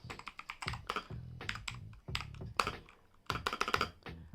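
A Portronics mechanical keyboard with blue switches, typed on in close-up, giving a crisp run of sharp clicky keystrokes in uneven bursts with brief pauses between, with no voices.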